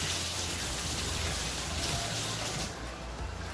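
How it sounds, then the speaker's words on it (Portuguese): Heavy rain pouring down while the sun is out, a loud, steady, dense hiss of water on surfaces throughout, easing slightly near the end, with no talking. "Ah, vem a chuva. Chuvão, chuva e sol ao mesmo tempo."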